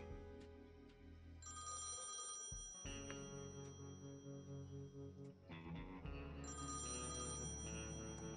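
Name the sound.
out-of-order telephone ringing in video game Thimbleweed Park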